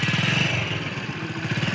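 Motorcycle engine running while someone learns to ride, a close, steady chugging idle with a regular rhythmic pulse throughout.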